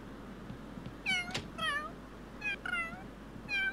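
A pet cat meowing in The Sims 3, three or four short, clear, near meows spaced a second or so apart over a quiet background hum.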